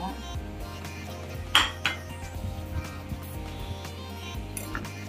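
Lumpiang shanghai filling being mixed by hand in a bowl, with soft irregular clinks and a couple of sharper knocks against the dish, quiet and close, no talking.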